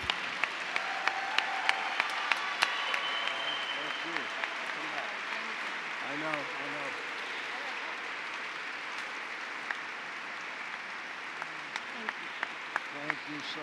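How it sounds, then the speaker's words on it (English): Applause at a Black History Month kickoff celebration for Alicia Garza, heard as a steady, fairly distant wash of crowd clapping that lasts throughout, with scattered sharper claps over a faint voice. "Let's give her another round of applause."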